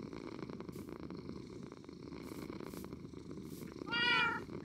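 Cats purring softly and close by, a low rhythmic rumble that carries on steadily, with a brief higher meow-like sound near the end.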